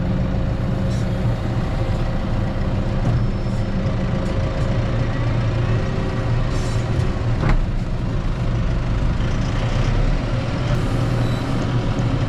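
A truck pulling a bale trailer loaded with hay bales rumbles steadily along, a loud, continuous engine drone with road noise and occasional faint rattles, no voices.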